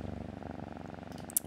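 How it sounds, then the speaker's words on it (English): A cat purrs close up, a soft, steady rhythmic rumble with quick regular pulses, quiet and alone, with a brief faint click near the end. "purrs."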